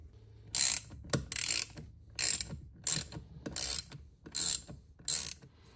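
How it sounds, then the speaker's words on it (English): A 7/16 wrench backs off the bridge nuts of a Laycock de Normanville D-type overdrive from a Triumph Spitfire, giving about seven bursts of close, crisp metallic ratchet clicking separated by brief pauses. "we're going to start with a 7/16, and we're going to just back these guys off slowly"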